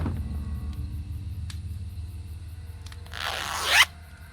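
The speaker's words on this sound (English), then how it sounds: "The zipper on this cushion's stuck." Stuck zipper on a cushion in the video game Tesla Effect, a single short rasping pull near the end over a low ambient game hum, brief and fairly close, no voices.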